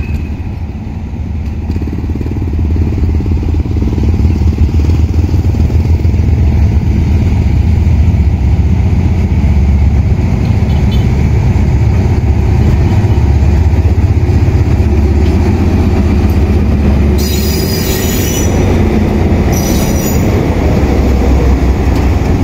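A passenger train, rapid train 167 being turned into 168 with two Daewoo sleeper cars, reverses into track 2 at Kantang station, a loud, steady diesel engine drone and rail rumble running throughout with faint high squeals near the end.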